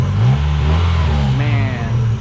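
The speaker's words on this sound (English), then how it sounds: "Sounds like a brand new car" A car engine revs close by, rising and falling in low repeated surges that sound fresh and clean, with a voice briefly heard alongside.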